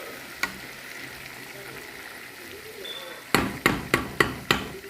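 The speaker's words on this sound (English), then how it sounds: "Going to stir it like this." Honey-coated savory peanuts stirred in a hot pan over low heat: a soft fry hiss, then five evenly spaced scraping knocks of a spoon against the pan near the end, with no talk.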